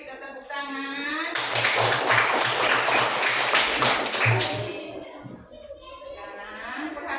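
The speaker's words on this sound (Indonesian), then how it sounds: "kita tepuk tangan" Classroom of children clapping hands together, a loud dense burst of claps lasting a few seconds, with a teacher's voice speaking before and after and children's voices mixed in.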